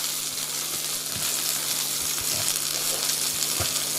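Fresh spring onion and chopped dill frying in a hot pan, a loud steady hiss and sizzle with a few soft stirring knocks, close up and continuous.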